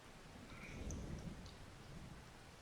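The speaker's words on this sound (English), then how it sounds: "I can hear the thunder in my headphones, but I don't see any rain." Low rumbling thunder from a storm in the farming game Farming Simulator 25, a continuous deep roll with soft rain-like hiss over nearly three seconds, steady and moderately quiet, with no talking.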